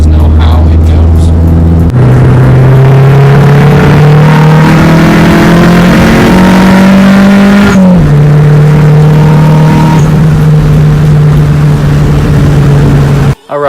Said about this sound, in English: I'm gonna let the car warm up a little bit before I kind of get on it